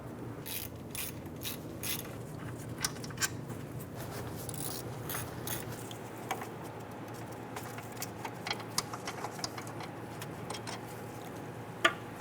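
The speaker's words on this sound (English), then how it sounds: "we're going to remove the two 15mm bolts on the back side supporting this to the knuckle" A hand ratchet works on the 15mm caliper bracket bolts of a Ford Mustang's front brake, giving quick, faint clicking runs with scattered metallic ticks and taps over a low background hum.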